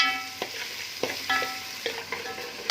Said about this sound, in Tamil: இஞ்சி, பூண்டு, பட்டை, கிராம்பு, ஏலக்காய் எல்லாம் போட்டு தாளிக்கிறேன்